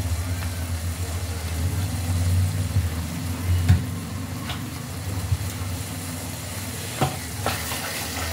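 A spoon stirs carrot halwa with ghee in a pan under a steady low hum. Occasional scraping taps and clinks sound against the vessel.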